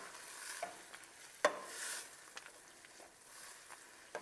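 Cauliflower fried rice with leftover steak sizzles softly in a pan. A faint, steady crackle is broken by a few quick stirring scrapes, heard close up with no voices.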